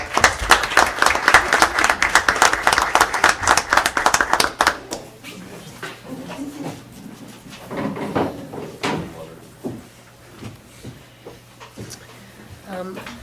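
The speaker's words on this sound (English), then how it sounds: "Let's give a round of applause to both of them." At a Fanwood town council meeting, a room of people claps loudly and densely for about five seconds, then the applause stops and a speaker continues talking.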